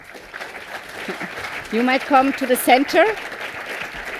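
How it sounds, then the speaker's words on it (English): An audience at the opening of a 2024 conference applauds in a steady patter beneath a speaker's amplified voice, with the clapping filling the room throughout. "Give them a warm applause"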